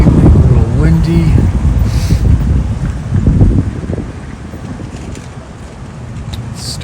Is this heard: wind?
yes